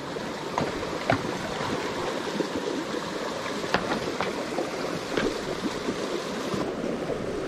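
A pony paws at water, producing irregular splashes and sloshing over a continuous wet, rushing background, with several sharper splashes scattered through.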